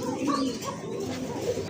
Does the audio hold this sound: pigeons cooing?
yes